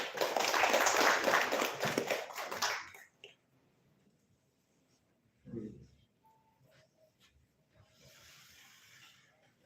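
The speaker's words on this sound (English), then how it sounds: "let us welcome His Grace Gauranga Darshan Prabhuji with a great applause" Audience applause welcoming a speaker at a talk held at Lorhan IT: a loud burst of clapping for about three seconds that quickly dies away into near silence, followed by a single faint thump.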